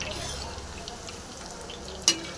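Pieces of raw jackfruit being stirred as they fry for jackfruit 65, a close, even sizzle with soft scraping and a sharp utensil clink near the end.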